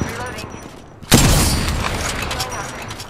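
Gunfire and an explosion in the battle royale video game Apex Legends: a sudden loud boom that rings out and slowly fades into continuing rumbling combat noise.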